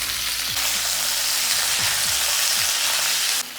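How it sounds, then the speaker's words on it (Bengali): Cauliflower florets fry lightly in a pan with a loud, continuous close sizzle and a few soft stirring scrapes. It cuts off abruptly near the end. "দেখুন একদম হালকা করে ভেজেছি"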